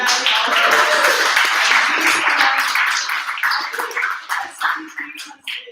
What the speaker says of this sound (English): I think we should give a little round of applause to dear Uncle Sid for organizing all of this